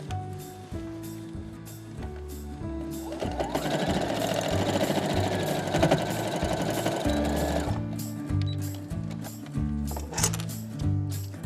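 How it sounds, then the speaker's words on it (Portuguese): A sewing machine stitching fabric for a school pencil case, with a loud close rhythmic mechanical whir in bursts that speeds up into one long continuous run before slowing to short stitches again. "Junto os 2 no meio e costura em cima do traço."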